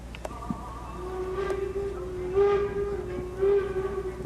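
A Strasburg Rail Road steam train whistle sounds as a steady tone at departure, swelling louder twice in short blasts over a hissing, rumbling background.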